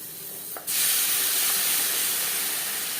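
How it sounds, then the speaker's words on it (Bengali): Onions with turmeric hit hot oil with a sudden loud hiss that stays as a close, steady, bright sizzle after a brief quieter start. "পেঁয়াজ হালকা করে ভেজে নেব তিন চার মিনিট"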